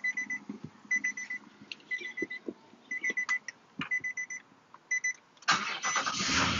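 A 2018 Nissan Armada with a no-start condition: a run of repeated electronic chime beeps, then the engine suddenly catches and roars to life loud and close for the final second.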